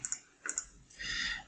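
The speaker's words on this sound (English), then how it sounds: "let me press Ctrl Z" Crisp keyboard key clicks as Ctrl Z is pressed, two quick pairs of sharp taps close to the microphone, followed by a brief softer rustling sound, quiet overall with no speech.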